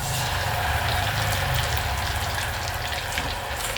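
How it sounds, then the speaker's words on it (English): Plantain slices deep frying in hot oil for dodo ikire, a steady, loud, dense sizzle and bubbling hiss throughout. "So I'm going to be deep frying it."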